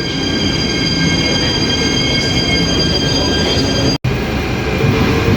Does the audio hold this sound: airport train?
yes